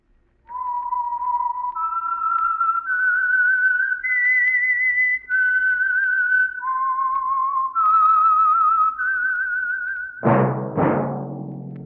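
Whistled theme signal of the radio mystery program The Whistler: a lone, clear melody of sustained, gliding notes stepping up and down, loud and close, ending with a sharp orchestral stab.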